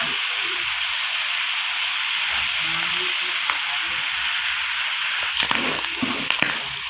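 Adobong puti, pork adobo with salt and garlic, sizzles and fries in a pan while being stirred, a steady close hiss with a few scraping clatters of the spoon near the end.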